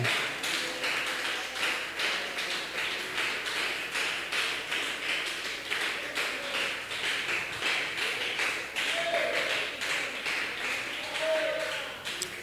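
Church congregation applauding in a youth service, rhythmic clapping held at a steady beat for several seconds, with voices faintly rising over it.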